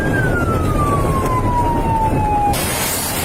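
A wailing ambulance siren sweeps steadily downward in pitch over constant road and engine rumble, no voices present.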